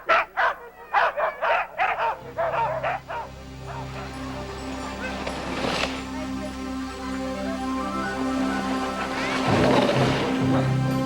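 Sled dogs bark and yip in a rapid burst of close, overlapping barks, then settle into whimpering and restless noise as they are harnessed, with occasional fresh yelps over a steady outdoor din.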